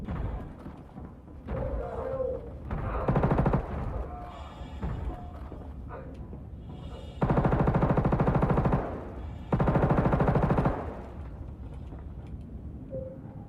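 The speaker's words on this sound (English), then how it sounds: "The shooting doesn't feel terrible." Automatic gunfire in the video game Star Citizen, with two long loud sustained bursts standing out over ongoing game noise, shorter rattles and thumps between them.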